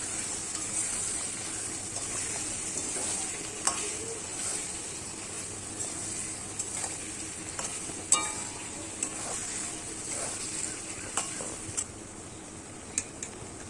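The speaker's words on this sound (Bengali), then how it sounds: "এবার দিয়ে দেবো স্বাদ মতন হলুদ দিয়ে নাড়তে থাকবো যতক্ষণ না পেঁয়াজগুলো ভালো মতন ভাজা হয়ে যাচ্ছে।" Sliced onions with turmeric stirred in a pan for chicken curry, a soft steady sizzle with occasional scraping clicks of the spoon, quiet and close.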